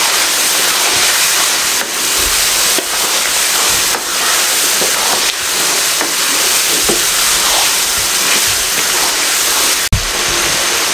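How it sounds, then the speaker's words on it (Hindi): Beef mince and potatoes fry on a medium flame for aloo qeema, a loud, steady sizzling hiss broken by occasional stirring scrapes and a sharp clack near the end. "अच्छे तरीके से मीडियम फ्लेम पे अच्छे तरीके से इसको मैं भून लूँ तकरीबन 2 से 3 मिनट"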